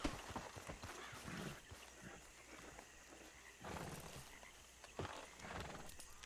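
Horse hooves clip-clopping in the video game Red Dead Redemption 2, soft irregular thuds in uneven clusters under a faint background bed, fairly quiet and close.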